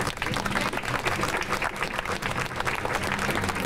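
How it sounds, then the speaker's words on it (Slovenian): Applause for Milan at a patriotic rally in Ljubljana, a crowd clapping steadily and fairly densely for the whole stretch with no voices over it. "Tako da en velik aplavz za Milana."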